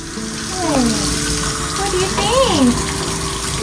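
Running water pours steadily during a chocolate Labrador's bath, a continuous close gush under a person talking, with whining or squeaky tonal sounds sliding up and down over it.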